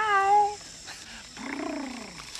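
A short tiger meow up close, followed after a pause by a lower drawn-out yowl with a faint rumbling purr beneath.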